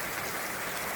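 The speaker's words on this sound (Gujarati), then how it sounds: "વરસાદ મસ્ત રીતના ચાલુ થઈ ગયો છે" Steady rain pours down in the village of Vadod in Jasdan taluka on a June evening, a dense hiss that stays even and fairly loud throughout a single second.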